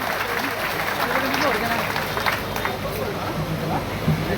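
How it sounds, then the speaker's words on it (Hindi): Crowd applause at a political rally in Jhunjhunu, a dense, steady wash of clapping lasting throughout with loud crowd babble and voices mixed in, fairly close and continuous. "जोरदार तालियां एक बार।"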